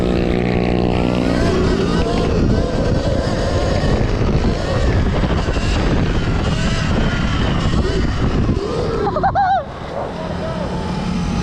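Surron Ultra Bee electric dirt bike ridden outdoors, a continuous loud rush of wind buffeting and motor whine with rumbling terrain noise, easing briefly near the end.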